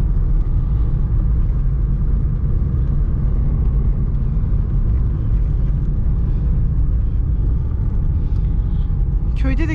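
A John Deere 5105 tractor engine revs hard on a village track as its wheels spin and slip for grip, giving a loud, steady, close rumble with a dense low roar throughout.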